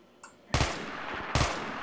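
Two loud bursts of automatic gunfire from a zombie survival video game, close and sharp, each blast trailing off into a short echoing tail.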